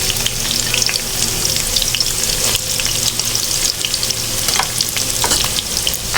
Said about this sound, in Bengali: তো এটা পেঁয়াজটা হালকা একটু ভেজে নিব।